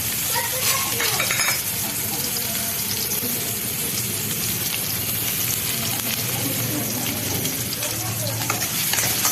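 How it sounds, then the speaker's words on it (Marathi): Onion sizzling in hot oil with cumin, mustard seeds and curry leaves for a Maharashtrian soybean curry, a dense steady frying hiss close by with scraping stirs throughout and no talk. "कांदा छान आपण परतून घेऊ"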